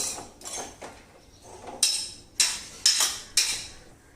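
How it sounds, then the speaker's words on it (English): Ingredients being mixed in a bowl, a series of rhythmic scraping, clinking strokes of a utensil against the bowl, close and fairly loud, repeating about every half second. "we will mix it well like this"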